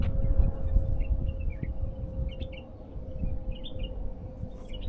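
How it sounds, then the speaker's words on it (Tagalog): Small birds chirp and twitter in Alareej Park in Riyadh, Saudi Arabia. The calls are faint and scattered, sitting above a steady low rumble of outdoor ambience and a constant hum. "Kahit nakaupo ka lang dito, marami kang maririnig na ano, huni ng ibon."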